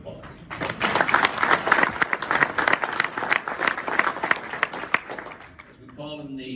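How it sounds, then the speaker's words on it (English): Audience at a high school 50th anniversary reunion breaks into applause, a lively mix of close claps and thumps that swells and fades, with a voice starting to talk as it dies away. "Another round of applause."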